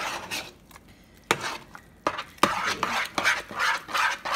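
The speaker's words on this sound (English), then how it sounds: "let's continue stirring because you don't want that one at the bottom to be" Stirring corn cheese maja blanca in a pot over low heat: scattered scraping and clinking of a utensil against the pot, irregular and close, with quieter gaps between strokes.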